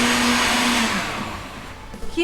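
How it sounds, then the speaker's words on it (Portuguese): A kitchen blender whirs steadily at close range, a loud motor whine that winds down and fades as it is switched off near the end. "eu vou desligar o liquidificador"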